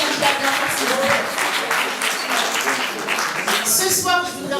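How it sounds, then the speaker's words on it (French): An audience at a Paris event applauds six candidates, dense clapping heard throughout at a lively, fairly loud level, with voices mixed in. "Je vous demande d'applaudir nos 6 candidats bien fort, s'il vous plaît."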